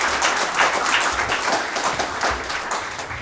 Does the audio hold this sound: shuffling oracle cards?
no